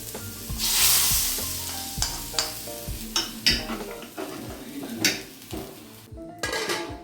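Loud sizzling with repeated stirring and scraping clatter in a pan as fried onions go into a mushroom curry, a burst of frying noise near the start, then intermittent clinks and scrapes.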